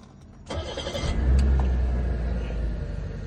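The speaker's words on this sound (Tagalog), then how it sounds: "So, start natin. Cold start pa yan." A Mitsubishi Pajero Jr engine cold-starts with a sharp onset, then settles into a loud, low rumbling idle that rises briefly before steadying, heard alone without talk.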